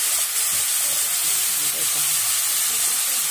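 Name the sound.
onion frying in oil with a little salt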